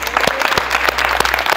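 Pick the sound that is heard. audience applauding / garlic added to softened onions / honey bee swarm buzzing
audience applauding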